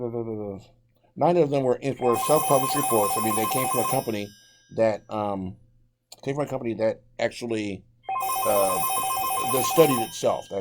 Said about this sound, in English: pardon the phone in the background